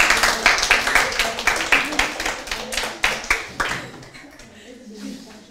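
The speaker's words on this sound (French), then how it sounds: "Vous pouvez applaudir, ne vous gênez pas." Audience applause at a rabbi's lecture on Jewish teaching: a burst of brisk, fairly loud hand clapping from a crowd that fades out after a few seconds, with room noise and a voice faintly underneath.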